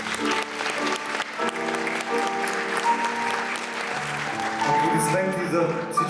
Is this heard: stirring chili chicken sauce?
no